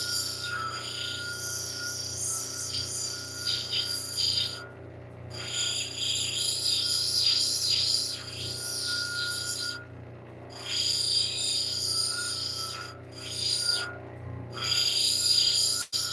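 A lapidary grinding wheel shapes flint and larimar stone, giving a continuous abrasive rasp under a steady motor hum, broken by short pauses as the stone is lifted off and pressed back.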